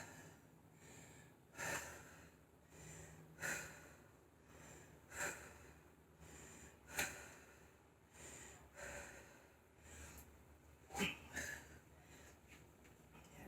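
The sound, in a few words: heavy breathing while resting after interval training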